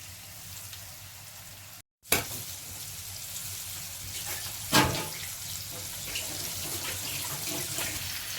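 Rice-flour coated pomfret fries on a hot tawa with a steady, broadband hiss. The sizzle cuts out briefly near the start and resumes, and a sharper spatter flares midway.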